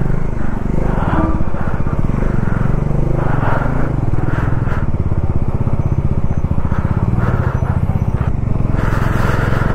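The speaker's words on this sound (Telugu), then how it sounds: "ఇంకొకటి ఉన్నట్టుంది లారీ" Another lorry passes on a mountain road on the Leh to Manali route, heard from a Dominar 400 motorcycle: a loud, close engine drone with a rhythmic throb and steady wind rush throughout.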